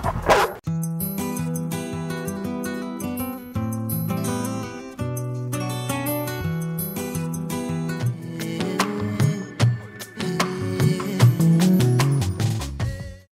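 A dog at a breeding kennel barks on the speak command, giving a series of repeated barks and yips over a busy, layered background for more than ten seconds.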